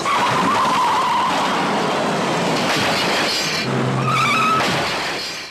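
A car skids with sustained tire squeal, then a crash and engine noise follow, loud and continuous throughout with no talking.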